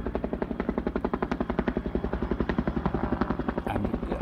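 Firefighting helicopters fly overhead near a bushfire, close to the bush, with water drawn from a dam about 2 km away; a steady, loud rotor thump beats rapidly and continuously with no talking.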